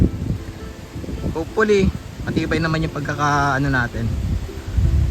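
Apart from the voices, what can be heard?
strong wind and rain at campsite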